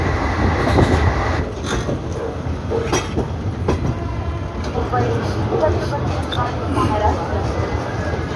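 A Mahanagri Express train pulling into Satna Junction, with a steady loud low rumble of rolling wagons and scattered rail clicks throughout, while people talk nearby.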